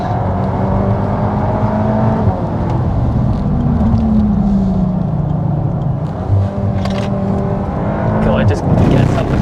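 A Volkswagen Golf R Mk8 hatchback engine drones and revs as it accelerates flat out on a race track, a loud steady mechanical roar with shifting pitch, recorded from inside the car.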